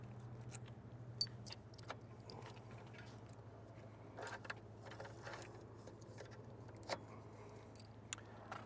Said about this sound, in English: When removing the bike, you're of course going to unlock your cable lock.